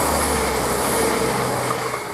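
A CrossCountry train passes Waterbeach station with a loud, steady rumble and broad rushing noise that holds throughout and eases slightly at the end.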